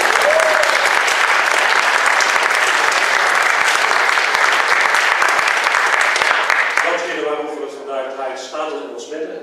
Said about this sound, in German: Und das ist allein schon ein Applaus.